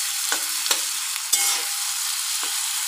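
Tomatoes and onions sautéing in a pan, for a bitter gourd stir-fry: an even hiss of frying punctuated by four sharp stirring scrapes, close and without speech.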